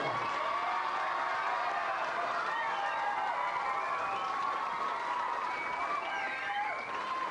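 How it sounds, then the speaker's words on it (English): Sustained applause and scattered cheering from a hall crowd at a 1989 McCarthy Cup hurling presentation, honouring a visiting guest; dense, steady clapping fills the space from start to finish. "Give him a big round of applause"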